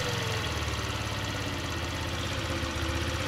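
A small Honda scooter engine with a new motor drones and sputters steadily up close during repair, a buzzing idle with rough, pulsing vibration and no voices.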